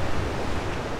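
Large storm waves crashing on a secluded Crimean beach near Fiolent, a steady loud roar of surf and wind filling the whole moment without a break.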